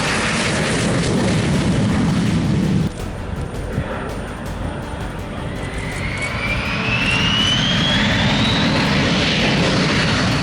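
A jet aircraft sweeps past at the Wonsan air show in North Korea as a loud, sustained roar with a rising whine, the engine sound swelling again as the plane nears.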